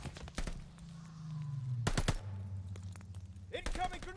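Decoy grenade in Call of Duty Vanguard, imitating gunfire with sharp bursts of shots that come in clusters amid battlefield noise, while game voices speak over it.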